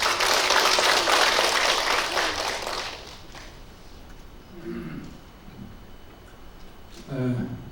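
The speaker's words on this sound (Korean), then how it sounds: "큰 박수로 맞이해 주시기 바랍니다." Audience applause welcoming a monk of the Jogye Order to speak at a Buddhist ritual culture academic conference; dense clapping fills the first three seconds, then fades as a voice speaks.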